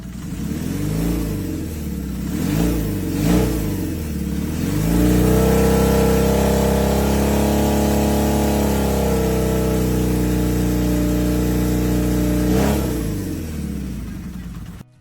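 A Honda CB550 classic motorcycle engine blips its throttle a few times, then holds a steady, loud rev for several seconds before dropping back, heard up close.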